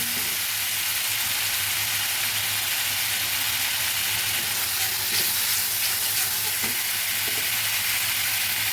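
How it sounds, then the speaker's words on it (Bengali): Spices fry in a pan with a splash of water for a snakehead fish and potato curry, giving a constant dense, close sizzling hiss with faint stirring underneath and no voices. "একটু জল দিয়ে দিচ্ছি ভালোভাবে মশলাগুলো ভেজে নেব"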